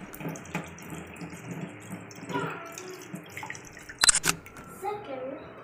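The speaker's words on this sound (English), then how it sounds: "First, get the ginger and cool it with water." Tap water running over fresh ginger in a kitchen, soft uneven splashing and trickling close by, with a couple of sharper clatters partway through.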